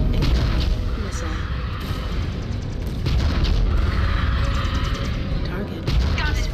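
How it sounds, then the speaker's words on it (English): Incoming missile explosions in the MechWarrior 5 video game: loud, continuous booming and rumbling blasts, with a brief pause near the middle, under a dense wash of battle noise. "Incoming missile."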